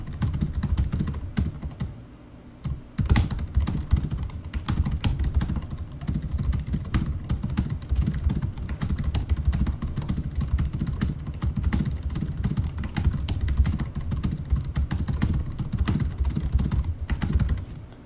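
Rapid, steady typing on the keyboard of an HP Pavilion DV2000 laptop, a close dense run of plastic key clicks with a brief pause near the start and otherwise continuous clatter, no voices.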